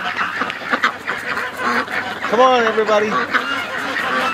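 Three young geese near a gate give honking, quacking calls over ambient noise while a person speaks nearby.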